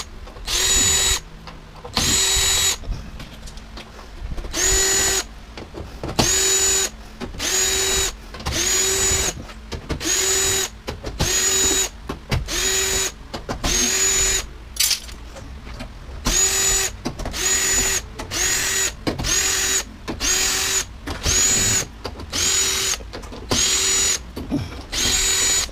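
Power drill backing screws out of a washer/dryer combo being scrapped, running in repeated short bursts with brief pauses between, close and loud, no talking.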